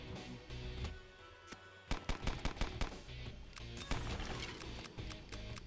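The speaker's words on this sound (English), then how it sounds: "Mini Isaacs with guns" Mini Isaacs fire guns in the video game The Binding of Isaac: Repentance, a dense stream of rapid synthetic gunshots over busy game music and effects, with sharp bursts clustering after a short pause.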